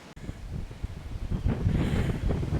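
Wind gusts across a hillside in the Yorkshire Dales, buffeting the microphone in low rumbling bursts that build louder toward the end.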